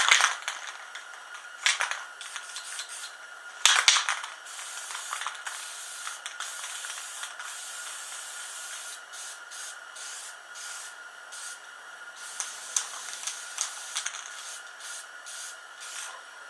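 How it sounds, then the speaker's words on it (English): Lacquer spraying from a spray can onto a wooden log chalice: several hissing spray bursts, with a few sharper rattling clicks near the start, then a steady hiss, close and moderately loud, and no talking. "Now I like the spray-on lacquer. It dries real quick."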